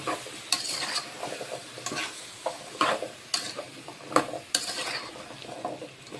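Pumpkin stew stirred in a pan on the stove, a spoon scraping and knocking against the pan in irregular strokes over a soft, steady sizzle, close by with no talk.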